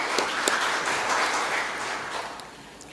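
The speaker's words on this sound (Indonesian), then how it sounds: "kita berikan tepuk tangan dulu pada Lemtari" Dense, steady applause fills a hall at a customary-enterprise seminar as the audience welcomes Lemtari, many hands clapping together at an even level throughout.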